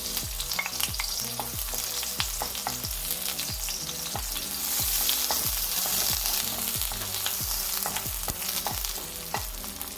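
Onions frying in hot cooking oil for pork binagoongan, giving a loud, constant sizzle close up with a regular rhythm of stirring strokes and scrapes throughout, no voices present.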